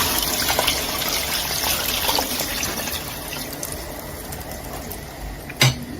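Water poured from a tap or jug into a cooking pot for mutton pulao, a running, gushing fill that tapers off toward the end, followed by a brief clank near the close.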